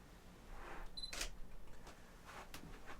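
Sony A7 IV mirrorless camera firing its shutter once to take a photo of a spinning fan, a short sharp click standing out against a quiet room with faint background hiss and no talking.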